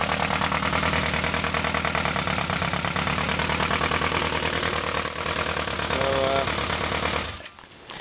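550 motorcycle engine idling through loud aftermarket pipes, a steady close and loud punchy rumble with a rapid pulsing beat that cuts off near the end.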